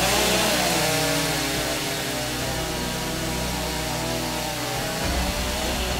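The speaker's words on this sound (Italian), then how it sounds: "quando si mette in moto la motosega bisogna sempre metterla in moto in sicurezza" A STIHL chainsaw engine runs steadily, with a loud, sustained buzzing drone and a brief dip in pitch near the end.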